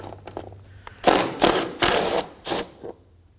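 Ratchet wrench backing out a 10mm bolt on the radiator shroud of a 2016-2020 Kia Sorento 2.4L, four loud close bursts of rapid clicking after a few light taps, then quiet.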